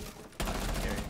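Gunfire in Rainbow Six Siege, a sudden burst of rapid shots cutting in after a brief quiet moment and continuing as a dense, close rattle.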